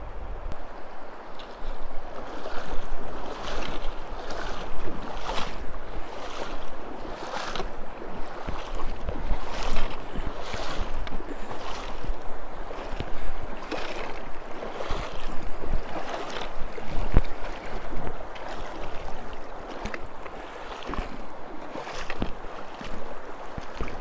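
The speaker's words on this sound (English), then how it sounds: "I have made it to the upper Yellowstone River." Flowing water of the upper Yellowstone River gives a steady broadband rush, with rhythmic splashes that sound like a paddle or boat moving through the current, continuous and fairly close.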